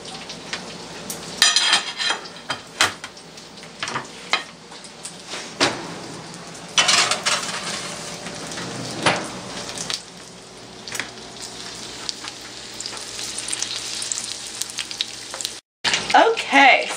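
Lumpia shanghai deep frying in hot oil, a steady broadband sizzle and crackle with bursts of popping spatter, close and fairly loud, with a brief dropout near the end and no talking.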